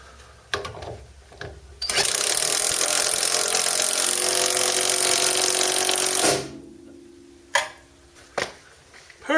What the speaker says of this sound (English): I'll just rattle it up with a little gun.